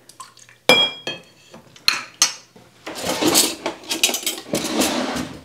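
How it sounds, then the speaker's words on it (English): A spoon clatters and scrapes inside a container while stirring rehydrated freeze-dried broth, starting with a few loud separate clinks and then turning into a busy run of close scraping and sloshing. "I'm gonna stir that around and let that rehydrate."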